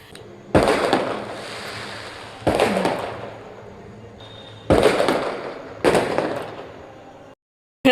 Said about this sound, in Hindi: पटाखा, वाह, जैसे लग रहा है शादी ब्याह है आज